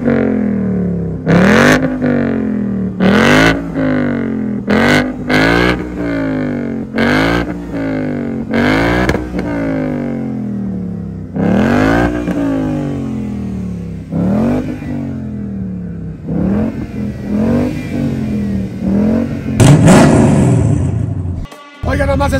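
A Ford Mustang Mach 1 with a naturally aspirated V8 and Shelby intake manifold revs hard over and over, each loud blip climbing and then falling away with a burbling growl, one sharp burst near the end.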